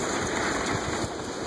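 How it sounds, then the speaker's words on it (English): Steady rain with wind at night, a continuous broadband wash of pattering and rushing air heard alone, fairly close and even in level throughout. "Rain, rain, rain, rain, wind."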